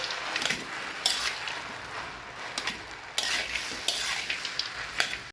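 A spoon stirs frying cashews, raisins and carrot in a wok, with a steady sizzle under repeated scraping and clinking strokes against the pan. The strokes come at irregular intervals and are heard up close.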